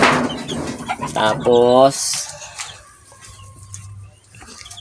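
Laying hens clucking close by, a few rising, stuttering calls followed by quieter intermittent clucks, with someone speaking briefly at the start.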